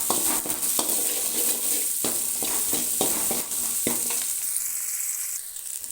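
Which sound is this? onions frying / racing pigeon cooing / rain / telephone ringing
onions frying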